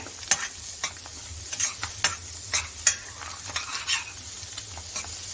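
Onions frying and sizzling in a pan for an egg recipe, stirred with a utensil that clicks and scrapes in irregular strokes over a steady soft crackle, close and moderately quiet, with no talking.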